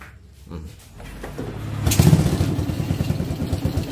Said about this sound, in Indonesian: Oke, ini motornya sudah hidup ya.